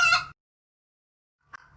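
A dungeon chicken enemy in the video game Break the Rules gives a short clucking call, then silence, then a brief second cluck, clean and close.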